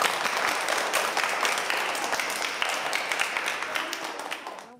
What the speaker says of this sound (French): On peut s'applaudir.